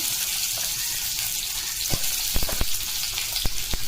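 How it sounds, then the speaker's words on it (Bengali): Onion and ginger fry in a pan with a steady hiss of oil, broken by a few sharp clicks and taps of a utensil toward the end, close and fairly loud. "আদা দিয়ে দিলাম, সব কিছু আমি ভেজে নিই"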